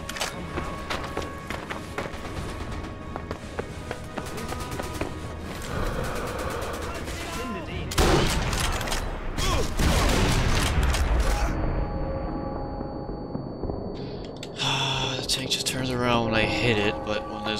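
Rapid bursts of gunfire and booms from the video game Sniper Elite V2, loud and dense, mixed with game effects and chaotic noise throughout.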